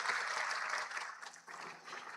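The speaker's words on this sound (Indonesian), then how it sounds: "Tepuk tangannya yang meriah." Congregation applause at a Pentecostal revival service in a Balikpapan church, a dense steady patter of many hands at moderate level that dips briefly midway and then carries on.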